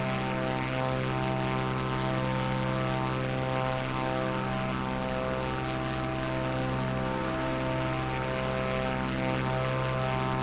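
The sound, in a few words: Cessna propeller plane engine in Microsoft Flight Simulator 2024 video game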